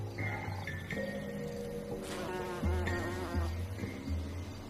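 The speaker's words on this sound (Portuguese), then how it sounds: "As gencianas desenvolveram um laço forte e exclusivo com os abelhões." Bumblebees buzz close by around gentian flowers in a garden, with steady droning hums that rise and shift pitch as the insects move, plus a short rustle partway through.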